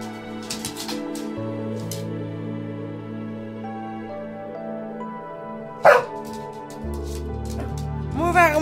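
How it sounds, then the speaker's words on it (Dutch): A dog barks a few times in short, sharp bursts, one clearly louder, over steady tonal background sound indoors. "Maar waarom moet jij zo hard blaffen"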